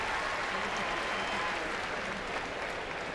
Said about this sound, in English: We heard some people applaud